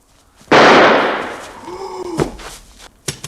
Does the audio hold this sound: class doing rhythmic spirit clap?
no